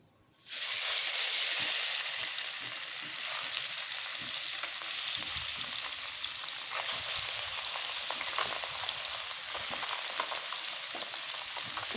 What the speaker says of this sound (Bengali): আমার কড়াইয়ের তেলটা গরম হয়ে গিয়েছে এক মিনিট মধ্যে মাছগুলো দিয়ে দিচ্ছি